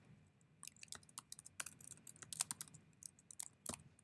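Rapid keystrokes on a computer keyboard while code is typed, a close, quiet run of uneven clicks with brief pauses and no talk.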